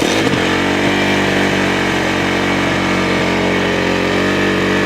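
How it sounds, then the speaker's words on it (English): A dirt bike engine runs steadily and loud after a brief start-up burst, holding a constant rough motor drone with strong low harmonics and no talk over it. "I'll show you how to start the bike"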